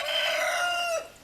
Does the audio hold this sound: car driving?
no